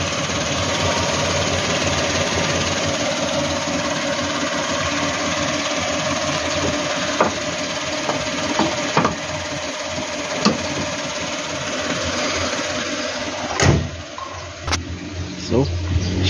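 The 1.0-litre engine of a 2016 Suzuki Celerio GL CVT running at idle, a steady, even hum that holds throughout, with a few light clicks and knocks near the end and a voice talking over it.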